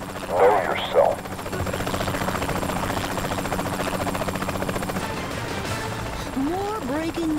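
A helicopter flies in the video game Saints Row The Third, its rotor thudding steadily beneath game dialogue and effects throughout.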